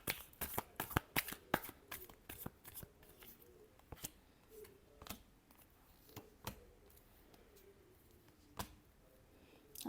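Tarot cards being shuffled by hand, a quick run of crisp riffling flicks at the start followed by sparser single snaps and taps, close and quiet with almost no talking.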